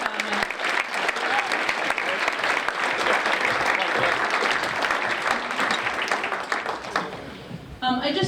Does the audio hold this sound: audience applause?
yes